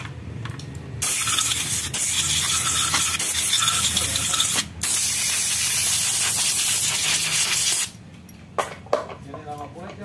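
An engine valve being lapped by hand without a drill, a loud continuous gritty rubbing hiss that runs for several seconds, breaks briefly, resumes, then stops, with a voice faintly heard afterwards.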